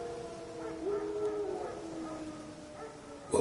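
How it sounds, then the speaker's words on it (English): Wild dogs howl in a video game, drawn-out wavering cries rising and falling at a moderate distance over a low ambient bed, ending in a brief louder burst. "Wild dogs. Yes. More dangerous than wolves."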